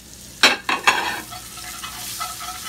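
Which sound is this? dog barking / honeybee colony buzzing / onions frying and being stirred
onions frying and being stirred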